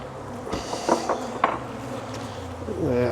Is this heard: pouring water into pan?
no